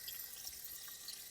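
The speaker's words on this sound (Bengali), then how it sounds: "জল চিগড়িয়ে চিগড়িয়ে ধুয়ে নিচ্ছি ভালো করে পরিষ্কার করে।" Water splashing and running while duck meat is washed by hand, a faint, continuous trickling and sloshing with no talk.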